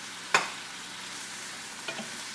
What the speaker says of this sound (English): So I'm going to stir fry this beefless.